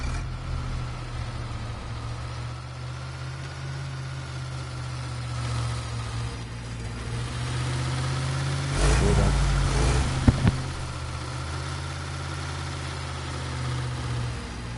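A car engine idles in the video game Cuisine Royale, a steady low drone running under a voice, with a brief louder rumble and a click near the middle.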